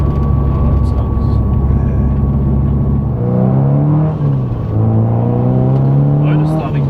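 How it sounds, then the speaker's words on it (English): A used Subaru STI engine revs while driving, its tone rising and sweeping steadily over several seconds beneath constant road rumble, with people talking inside the car. "You can feel it just revs"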